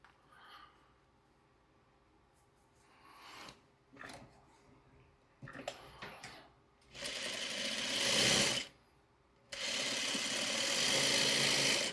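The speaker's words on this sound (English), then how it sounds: "So we'll just sew it on." Sewing machine stitching fabric pieces together for a quilt-style project, running in two loud sustained bursts near the end after quieter handling sounds.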